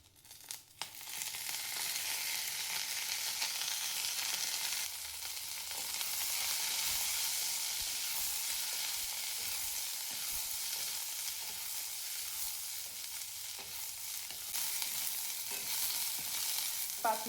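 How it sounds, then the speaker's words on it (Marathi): Cluster beans (guar) roast in oil in a pan over a medium gas flame: a steady, close, dense sizzle with faint stirring scrapes, continuing without pause and with no voices. "तेल टाकायचे, तेल टाकून भाजायचे आहे."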